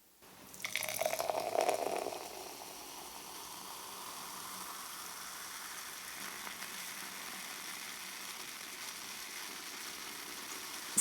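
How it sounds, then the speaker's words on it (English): Coca-Cola pours from a can into a glass with a brief rushing splash, then settles into a steady soft fizzing hiss as the froth dies back. "And we'll pour some out."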